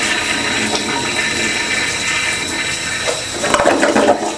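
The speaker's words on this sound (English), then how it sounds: "Let's just flush it and I'm going to wait for it to fill up." A household toilet flushes in a steady, loud rush of water that roars and gurgles close by, its swirl shifting near the end as the tank starts to refill.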